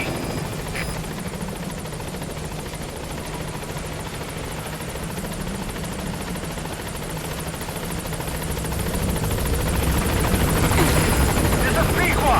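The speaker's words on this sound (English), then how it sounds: "This is B-Quad. Arriving shortly at LZ." Helicopter in Metal Gear Solid V coming in to a landing zone: steady rotor thrum throughout, growing louder and closer toward the end, with faint speech beneath.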